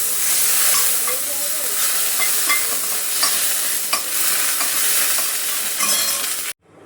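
Ghee melts in a very hot kadhai with a steady bright sizzle and hiss, punctuated by scraping spoon strokes against the pan, then stops abruptly.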